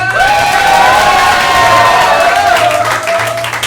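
A live improv comedy audience erupts into loud, sustained cheering, whooping and applause, a dense roar of voices and clapping that holds steady throughout.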